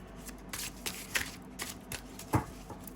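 Tarot cards shuffled and drawn by hand during a reading, heard as soft, irregular riffling and slapping bursts close up, with a sharper snap near the end and no talking.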